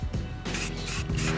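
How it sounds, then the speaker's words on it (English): Aerosol spray paint hissing onto a homemade DIY Nerf target in three long bursts with short gaps, close and steady. "I'm going to spray that up"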